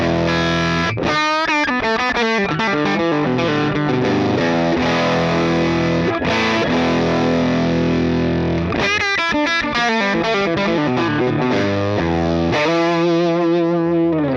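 Heavily distorted electric guitar through a UAFX Ruby amp pedal with gain maxed, chords and chugging riffs played loudly and aggressively, with brief pauses between phrases.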